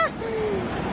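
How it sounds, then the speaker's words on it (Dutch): Ocean waves break on a beach in Bali as a continuous rushing surf with wind buffeting the microphone, and a brief voice is heard at the very start. "de golven hier zijn zo verschrikkelijk erg"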